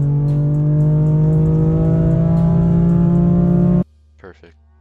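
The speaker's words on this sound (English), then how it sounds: "What you also might notice is the little shift sound at the very start." A BMW S55 engine held at a loud, steady, close rising drone for several seconds, then cutting off abruptly, followed by a brief faint mechanical blip.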